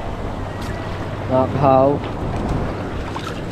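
Large waves crash and surge near a boat at a river mouth, a broad, rushing wash of surf and wind noise that swells briefly in the middle while someone speaks a couple of words over it.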